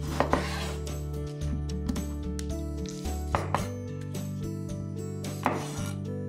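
A knife cuts tomatoes into quarters on a board for Melaka-style asam pedas, giving a few sharp chopping knocks and scrapes among dish clinks, over a steady low kitchen hum with no talking.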